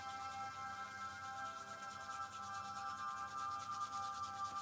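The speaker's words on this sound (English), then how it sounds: "feel free to rub your palms together. My hands are cold, so I'm going to try doing that." Cold palms rubbed together steadily, a soft continuous dry friction hiss at low level, heard alone without talk.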